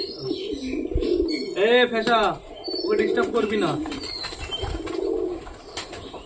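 A pet Madras pigeon coos close by in soft, throaty bursts, alongside a person speaking and some light background chirps and rustling.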